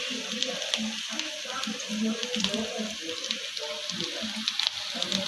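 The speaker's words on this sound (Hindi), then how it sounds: "दूसरी साइड से भी हमने ऐसे ही फ्राई कर लेना है 2 मिनट तक" Potato snacks frying in hot oil for a quick teatime recipe, a steady close crackling sizzle with soft bubbling pops running throughout, no voice over it.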